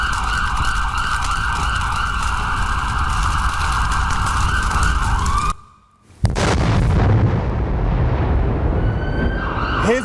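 Air-raid sirens wail over a city during a Hezbollah rocket attack on Tel Aviv, a loud sustained siren tone with a brief cut of silence midway, followed by rumbling noise and a rising wail again.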